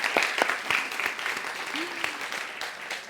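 An audience at a live talk bursts into dense, sustained applause, with many hands clapping at once, fairly close and steady, as a voice briefly carries over the clapping.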